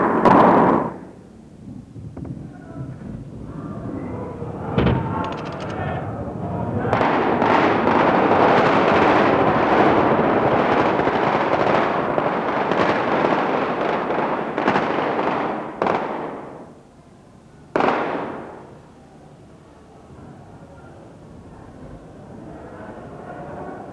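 Loud bursts of gunfire in the 1988 assassination attempt on Turgut Özal at a crowded congress, sharp cracks at the start and around five seconds, then a long roar of crowd commotion, another sharp report near eighteen seconds.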